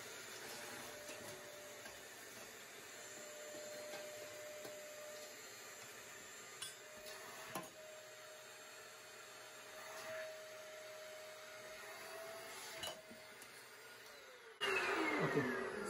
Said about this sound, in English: I'm gonna try to vacuum those.